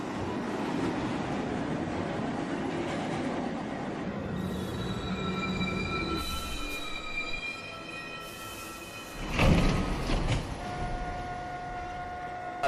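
A New York City subway 1 train rumbles into Lincoln Center station, its wheels letting out long, high squeals as it slows, followed by a sharp clatter and a fading hum at the platform.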